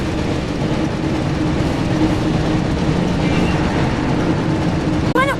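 Hogwarts Express steam train from the PS1 Harry Potter and the Chamber of Secrets video game, a steady loud rumbling run of rolling wheels and engine noise throughout, with a brief sharper clatter near the end.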